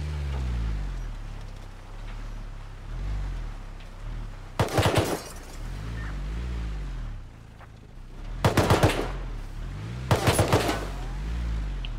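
Enemy gunfire in Rust at an arctic research base, three short loud bursts of rapid shots spaced several seconds apart over a steady low engine-like rumble.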